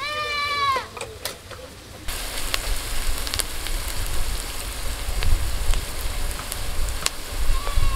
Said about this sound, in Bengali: তেল গরম হয়ে গেছে, তেলের মধ্যে দিয়ে দিচ্ছি পেঁয়াজ কুচি।